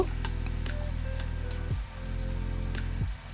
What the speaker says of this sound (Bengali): একটু নেড়ে চেড়ে পেঁয়াজ রসুনের সাথে মিলিয়ে নিব